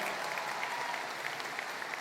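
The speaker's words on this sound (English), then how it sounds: "give them another thunderous round of applause" Faint, distant applause from the audience at a high school commencement ceremony, an even patter of many hands clapping that holds steady throughout.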